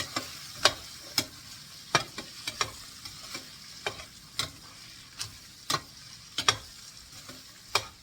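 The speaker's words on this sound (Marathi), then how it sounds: "सो हा फ्राय करायचा चांगला." Suhana biryani masala fries in a pan with a faint sizzle underneath, broken by sharp, irregular clicks and taps of a spoon against the pan, several per second at times, quiet and close with no talking.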